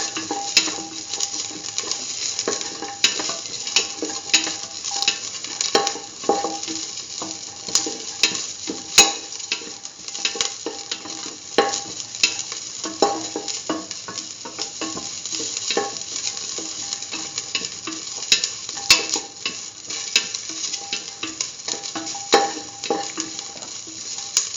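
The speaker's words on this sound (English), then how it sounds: "saute mix, keep on sauteing" Corn coconut milk rice ingredients sauté in a pan under constant stirring, a busy run of scrapes and utensil clatter over a light continuous sizzle, close and steady with no pauses.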